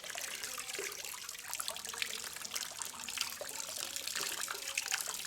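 A wet rag is plunged into a bucket of water before treating surface-rusted metal, giving a close, soft continuous sloshing and trickling with no voices.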